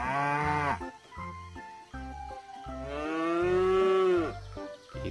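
A cow moos loudly and repeatedly, long drawn-out lowing calls, close by, with no talking.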